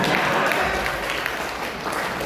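An audience at a religious lecture during a mosque council coordination meeting claps together, a thick, even wash of applause that holds steady and loud throughout.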